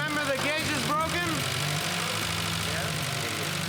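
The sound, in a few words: 1992 Eagle Talon TSi engine running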